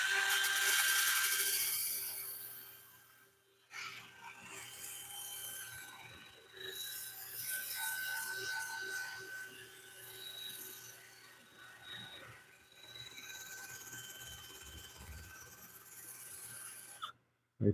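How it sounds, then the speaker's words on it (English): Wood being sanded on a woodturning lathe gives a continuous rasping, whirring rub that dips briefly a few times before resuming, steady and fairly close. "I think we're sanding pretty smoothly on that."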